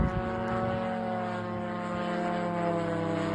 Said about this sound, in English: That is a Liutyi drone. It's loud, it's slow, but it does the trick.